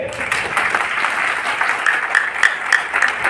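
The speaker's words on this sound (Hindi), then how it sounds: "ताली जोर से नहीं बजा लगा" An audience claps at a political meeting, a dense, fairly close round of applause that holds steady throughout, with a few sharper claps standing out near the end.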